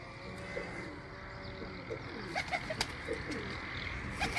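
Sialkoti black-faced pigeons coo softly in a loft, low rounded calls mixed with a few brighter chirps against a faint background hum, moderately near and without speech.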